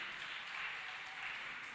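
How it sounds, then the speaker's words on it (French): A faint, steady wash of applause from a concert crowd sending a performer off stage. It is distant, even and sustained for the whole moment. "On applaudit très très fort pour la raccompagner"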